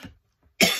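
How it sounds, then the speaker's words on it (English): A single sharp, loud cough bursts out near the end after a faint earlier throat sound and a stretch of silence, from a person with long COVID and a lingering cough. "a cough that won't go away"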